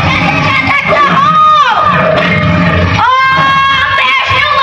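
Audience at a Narasimha avatar story play during Navratri erupts in loud, close cheering and shouting: excited voices with rising and falling cries rather than distinct handclaps, sustained throughout.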